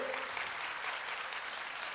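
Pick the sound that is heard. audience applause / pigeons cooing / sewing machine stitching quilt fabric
audience applause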